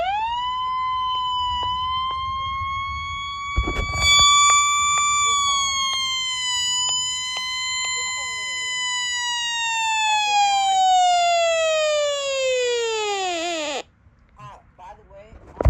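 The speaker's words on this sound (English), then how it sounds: "the siren will sound lower pitched when it actually goes off for weather alerts." A weather radio's alert siren sounds during a test, a loud close electronic wail that holds steady then sweeps downward before cutting off abruptly, with a brief bump of handling noise early on and a voice briefly over it.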